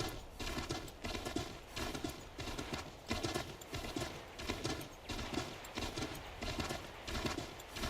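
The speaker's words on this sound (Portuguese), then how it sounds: "Um cavalo negro da bunda branca." Rapid rhythmic hoofbeats of a galloping black horse with a white rump in Assassin's Creed 3, with an occasional whinny, steady and fairly close, set against a dense background wash.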